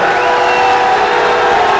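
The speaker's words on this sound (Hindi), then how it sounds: "एक बार जोरदार तालियों के साथ स्वागत" A large crowd claps and cheers loudly to welcome someone on stage, a dense, continuous roar of applause and shouts that stays close and steady throughout.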